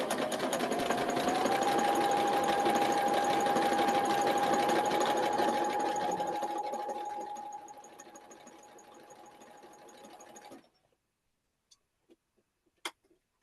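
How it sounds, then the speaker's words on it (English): A sewing machine stitches quilt pieces together for a pinwheel block in one long continuous run with a steady whine and ticking mechanism, close up, slowing and fading before stopping, followed by a few faint clicks in near silence. "And then we sew these together."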